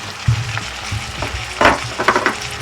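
Beef masala and mixed spices hit a hot pot of Ugandan-style beef stew, which sizzles and crackles close by as a spoon scrapes and stirs in uneven bursts.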